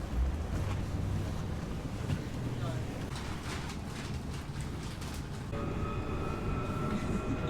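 Steady rumble of a Melbourne tram in motion, a continuous low rolling drone with faint rattles and a brief tonal whine near the end.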